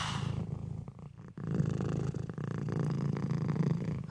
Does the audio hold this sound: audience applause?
no